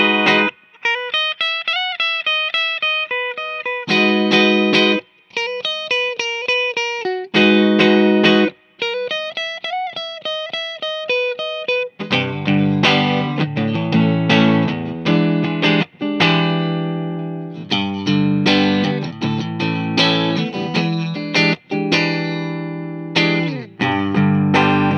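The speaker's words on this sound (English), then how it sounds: "let's go ahead and run through our tones here, starting with the bridge pickup" A 2019 Fender American Ultra Telecaster in Texas Tea plays through its bridge pickup: clean picked single notes and chords give way to driven, effects-laden strumming with sustained rhythmic chords, loud and alone with no talking.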